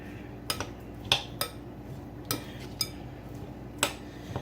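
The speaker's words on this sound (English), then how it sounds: "I'm going to mix the Cajun right into the vegetables here." Cajun seasoning being mixed into vegetables in a bowl: sparse, quiet clinks and scrapes of a utensil against the bowl, about six sharp ticks at irregular intervals over a low background hum.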